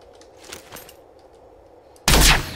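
A single loud, close sniper rifle shot in the zombie shooter game The Walking Zombie 2, bursting out suddenly after quiet ambient game sound.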